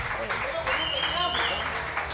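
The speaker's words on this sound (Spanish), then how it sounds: "Un aplauso para Nico." An audience at a live comedy show claps briefly for a guest, a light patter of applause that runs under voices talking and laughing.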